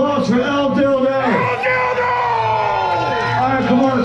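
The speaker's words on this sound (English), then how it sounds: "Let's hear a round of applause for El Dildo" A crowd bellows, whoops and cheers at an outdoor artist wrestling event on a stoop, loud and continuous with shouting voices layered over the noise.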